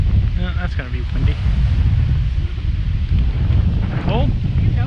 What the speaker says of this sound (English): Yeah, that's gonna be windy.